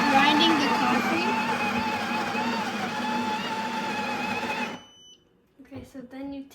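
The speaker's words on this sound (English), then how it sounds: "It's grinding the coffee." A Breville espresso machine grinds coffee beans for a cappuccino, a loud steady mechanical whir that stops abruptly after several seconds, followed by brief clattering handling sounds.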